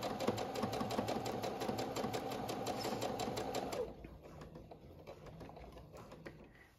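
A household sewing machine stitching with a triple needle runs in a steady, rapid mechanical chatter for nearly four seconds, then stops, leaving quiet room noise.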